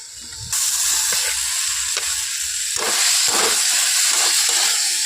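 Spices and pre-fried potatoes sizzle loudly in a pan for a bitter gourd dish, a dense hissing fry that starts abruptly and continues with repeated scraping stirs and bursts of steam.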